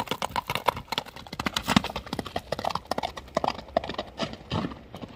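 Hooves of a bay racing horse in Alay clip-clop in a quick, uneven trotting rhythm of sharp close strikes, with a brief whinny and a little background voice.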